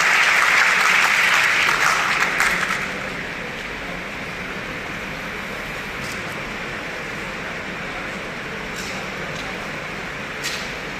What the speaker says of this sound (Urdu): آپ کی بھرپور تالیوں میں جناب اشرف شریف صاحب